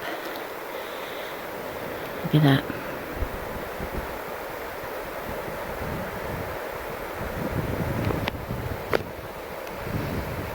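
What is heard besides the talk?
wind and Logan River flowing in Logan Canyon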